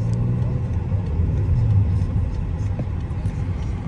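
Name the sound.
armored BMW car driving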